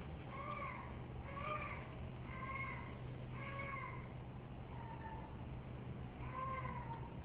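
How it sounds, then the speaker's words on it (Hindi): A cat meows repeatedly at night in an upscale residential area, Clifton Block 8, its wailing cries coming in a steady series over a low constant hum, fairly faint and without any talk. "ये बिल्ली की आवाज़ है।"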